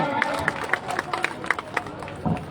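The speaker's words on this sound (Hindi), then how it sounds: "ताली स्वागत करो" A rally crowd for the Nishad party claps to welcome party members, with scattered sharp claps and general crowd murmur in a reverberant outdoor gathering, no clear talk on top.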